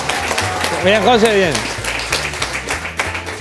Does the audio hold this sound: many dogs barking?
no